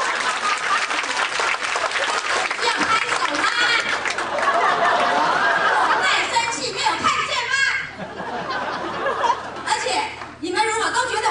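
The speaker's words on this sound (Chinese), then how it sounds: "公主真的生气了，我们给她一点掌声好不好？" An audience at a 2007 alumni association anniversary gathering in Southern California claps loudly in sustained applause, mixed with chatter and laughter, then thins into scattered clapping.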